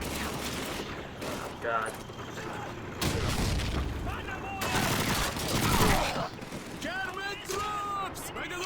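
Machine gun fire and explosions in the video game Call of Duty 2, loud sustained bursts with booms, as someone talks and exclaims over the battle.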